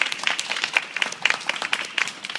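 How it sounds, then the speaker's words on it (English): Light, sparse clapping from a small summer-camp group cheering a child, uneven claps spread through the moment at moderate distance. "Let's give her a big round of applause."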